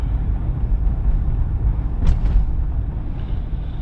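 Steady low rumbling wind buffeting a microphone outdoors on the Bay of Fundy shore at Port Lorne, constant throughout with a brief faint whistle near the middle.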